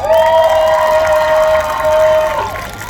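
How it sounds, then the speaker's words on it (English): A crowd at a Black Lives Matter protest in London cheers loudly, with a long held whoop over the group and applause mixed underneath, tapering off near the end. "Please give her a round of applause"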